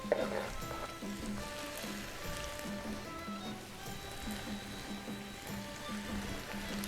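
Chopped onions frying in a pan of Mongolian beef, giving a steady crackling sizzle that runs the whole time beneath a continuous tonal background.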